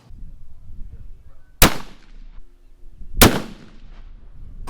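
Two heavy rifle shots from a Christensen Arms Ridgeline FFT in 7 PRC, fired a couple of seconds apart, each a deep booming thump with a short rolling tail, heard close and loud over quiet outdoor background.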